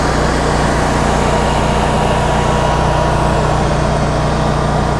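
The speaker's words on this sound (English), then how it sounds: "I opened the breaker feeding the load bank and restarted the generator immediately" Cummins home standby generator running after a restart, a loud, steady, unbroken engine drone with a low hum, close by and with no talk.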